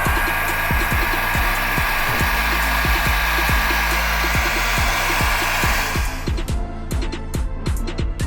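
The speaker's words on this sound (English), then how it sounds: "I'll hit this with a hairdryer and dry it quickly" A hair dryer drying paint on a model diorama base blows with a loud, steady whooshing roar close by, joined by rhythmic ticking or tapping throughout.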